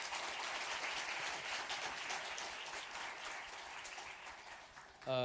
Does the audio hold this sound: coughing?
no